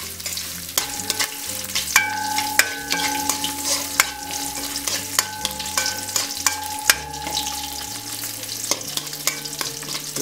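Chopped onions are stir-fried and stirred in a pan as chickpea kottu is cooked, with a steady close sizzle under repeated sharp scraping and clanking of a utensil against the pan.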